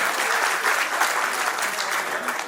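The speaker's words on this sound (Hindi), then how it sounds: "कॉन्स्टिट्यूशन क्लब के इस सभागार से एक बार जोरदार तालियां हो" Dense, steady applause from a large audience filling the Constitution Club auditorium during a book launch, sustained at an even level throughout.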